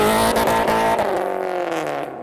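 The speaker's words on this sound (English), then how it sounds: "noises from the 350 as the MX-5 rolls past" A Nissan 350Z engine sounds steadily and loudly at close range as a Mazda MX-5 rolls past, with a sustained drone that fades slightly toward the end.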